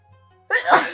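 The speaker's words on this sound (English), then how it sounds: "I felt that sneeze coming up on me and could do nothing" A single sharp human sneeze, close and fairly loud, bursting out after a brief quiet intake.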